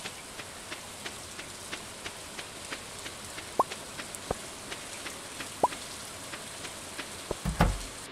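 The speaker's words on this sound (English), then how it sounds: "It's a rainy day" Rain in Stardew Valley falls as a soft steady patter with evenly spaced faint ticks and a few sharper drips, closing with a brief louder rustle near the end.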